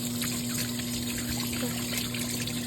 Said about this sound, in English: since I touched raw meat, we might want to wash our hands